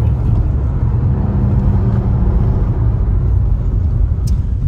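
A Suzuki Swift driving around the Millbrook Proving Ground test track, heard from inside as a loud, steady low engine and road rumble with no gaps.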